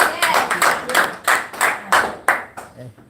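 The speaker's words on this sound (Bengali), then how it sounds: "এটা করতালি হবে" An audience at a DXN business seminar claps in quick rhythmic bursts, about three claps per second, fairly close and moderately loud, fading out at the end.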